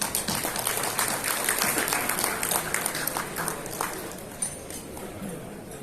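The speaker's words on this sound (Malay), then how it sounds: "Sila beri tepukan kepada beliau." Audience applause for a guest at a National Entrepreneurs Day event (Hari Usahawan Negara 2022): steady, dense clapping fills the room throughout at an even level, with a few sharper individual claps standing out.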